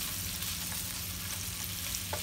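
Meatballs frying in a pan as spaghetti sauce is made, giving a steady, dense sizzle with small crackles throughout and no voices.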